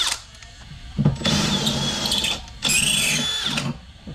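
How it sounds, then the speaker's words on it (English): An electric drill whirs in two sustained bursts, the second higher-pitched as it bites, close and loud, separated by a short lull, while assembling a 3 hp electric high-pressure washer. "I use the drill go quicker"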